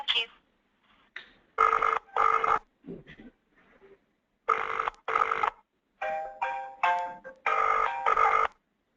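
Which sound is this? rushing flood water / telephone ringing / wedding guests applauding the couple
telephone ringing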